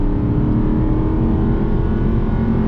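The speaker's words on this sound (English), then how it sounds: "Mesmerizing is the tone of this car." Manual Aston Martin Vantage 4.3 V8 engine held at a steady, loud drone with a rich low rumble, sounding close and continuous with no talk over it.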